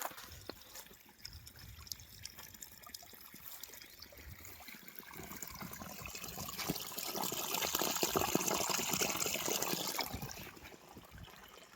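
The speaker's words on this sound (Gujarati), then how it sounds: "ઉપર ડુંગરોમાંથી પાણી આવતું હોય છે, જે આપ ખળખળ અવાજ" A gurgling stream of water running down from the hills near Nag Toda, a steady broadband rush that swells louder toward the end, with no voices.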